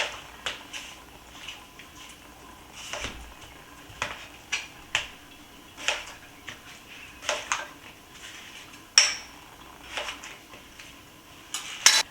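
Kitchen knife slicing about a pound of potatoes into quarters on a cutting board, with a series of sharp, close chops and taps at an uneven pace amid light kitchen clatter.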